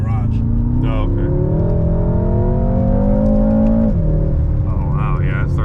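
A Stage 1 tuned BMW M6 F12 accelerates hard from inside the cabin, its engine tone climbing steadily for several seconds before dropping at a shift, while people talk over it.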